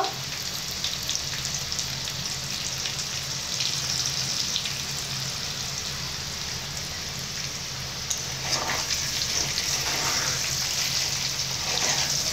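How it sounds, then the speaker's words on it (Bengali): Potatoes fry in hot oil with a steady, loud, dense sizzle and crackle that goes on without a break. "এইভাবে আলুগুলোকে ভালো করে ভেজে নেব।"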